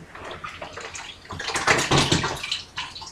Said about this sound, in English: you're going to scoop it out, and you're going to pour it into your cheesecloth